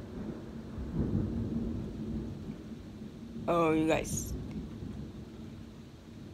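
A low, steady rumble of thunder rolls beneath soft rain-like noise, with a brief spoken exclamation partway through.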